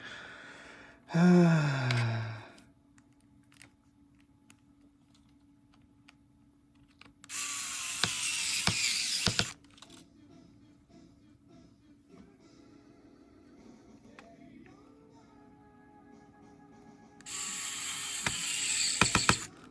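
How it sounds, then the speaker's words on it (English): Screws driven into a Nintendo 2DS XL during repair, with two bursts of a small power driver whirring a couple of seconds each, separated by faint clicks and handling noises in a quiet room. "I suppose I can try and put some screws in just to hold it in place"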